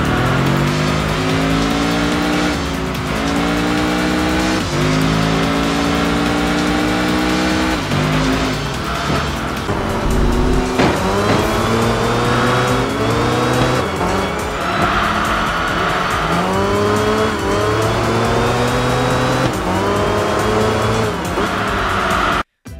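Racing cars in the Enthusia video game sound continuously loud, with engines revving up and down through the gears and tires squealing. The roar goes on without a break for over twenty seconds.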